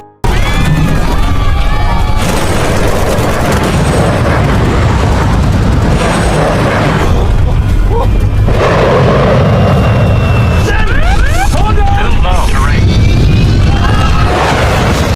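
WWII fighter planes in a film battle scene, with continuous loud engine roar, gunfire and booming explosions densely layered throughout, interrupted by sweeping whooshes of passing aircraft.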